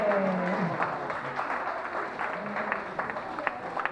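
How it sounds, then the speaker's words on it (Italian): A small group claps during a musical chairs game at a campground, a moderate patter of hands with scattered louder claps, blended with voices and background chatter. "un applauso anche per te!"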